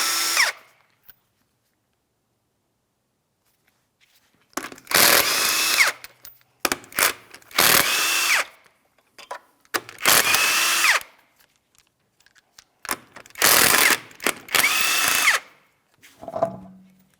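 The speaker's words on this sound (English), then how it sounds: "We're using a 19mm for each of these lug nuts so we can remove the wheel." Power tool with a 19mm socket loosening wheel lug nuts on a 2007-2014 Ford Edge, loud whirring bursts of a few seconds each separated by silent pauses, close up.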